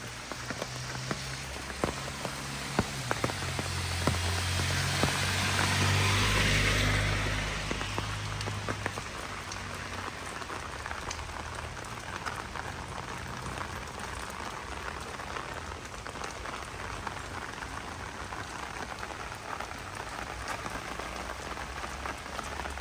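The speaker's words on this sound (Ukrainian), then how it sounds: "Дощик тільки підсилюється." Steady rain falls on a street in Lviv, a dense patter of drops on the pavement with a brief low rumble of something passing early on, with no voices.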